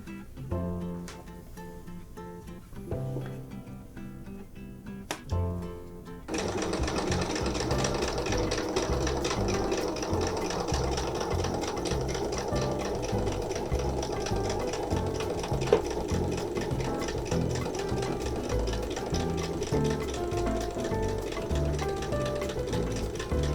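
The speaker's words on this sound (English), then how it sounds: "I'm going to stitch an 1/8 inch seam allowance all around the curved edge." A sewing machine stitches a 1/8 inch seam around the curved edge of a fabric elephant plushie ear, running steadily and loudly for most of the stretch after a few short starts.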